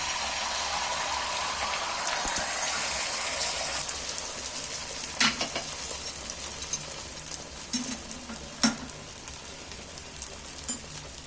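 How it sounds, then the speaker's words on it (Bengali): Batter hits a hot oiled tawa for a gram-flour and egg dish, a soft broad hiss and sizzle settling into steady frying, with a few light clinks and taps. "তেল দিয়ে দিচ্ছি গরম হয়ে গেছে এবার আমি তাওয়ার মধ্যে তিলটা ঢেলে দিচ্ছি"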